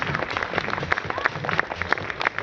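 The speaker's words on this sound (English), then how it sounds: "Give him a round of applause for that, guys." Audience at the Devon County Show in 2011 applauding a mountain bike trials rider, a lively patter of many hands clapping at moderate distance, steady and sustained for the whole moment.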